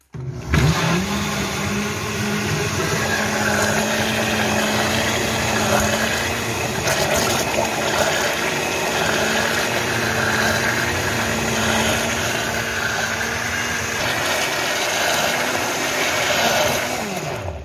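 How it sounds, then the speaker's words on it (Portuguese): A kitchen blender mixes a lemon dessert mixture with a continuous loud whir that starts abruptly and runs steadily to the end, with a grinding motor hum. "Vou bater bem essa mistura aqui."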